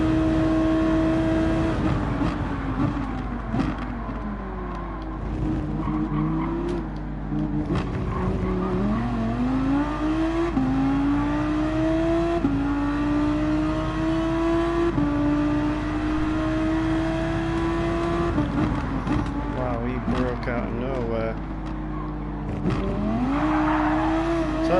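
An Audi R8 LMS GT3 race car in a Gran Turismo 7 daily race gives a loud, continuous engine note that climbs and drops through repeated gear changes for the whole stretch, with no talking.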